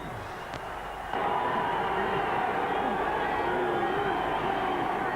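A huge stadium crowd at a 1999 New Zealand versus Australia rugby league Tri Nations match, a steady roar of thousands that swells abruptly after a second and holds loud, with chatter mixed in.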